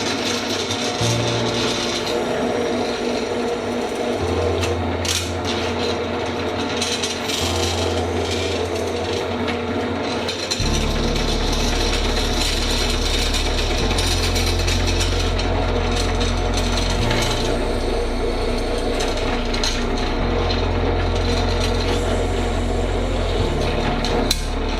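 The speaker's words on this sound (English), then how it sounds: "I'm just going to go ahead and drill through the rest of the way" A drill press bores through a metal aircraft spar plate lubricated with cutting oil, giving a loud, steady motor drone with shifting tone for the whole stretch and no talk.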